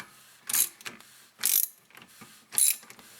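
Ratcheting clicks as a tool spins the rear brake caliper piston back in on a 2004 Volkswagen Jetta TDI, three short bursts of close, crisp clatter separated by brief pauses.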